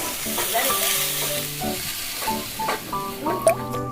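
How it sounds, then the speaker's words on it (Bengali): Chopped tomatoes fry in a pan for a paneer dish, giving a steady close sizzle with stirring scrapes, and a melodic tone plays faintly in the background. "টমেটোটা আমার বেশ ভাজা হয়ে এসছে।"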